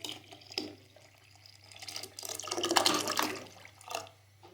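Milk with cream, about a litre, poured into a pot of cooking talbina, giving uneven liquid splashing and gurgling that swells in the middle and tapers off, fairly quiet and close, no talk.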